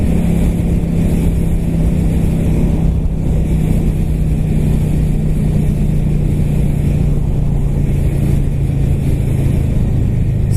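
A car engine holds a steady, loud drone with a throttle stuck open after a snapped deceleration cable, running continuously like cruise control with no one speaking.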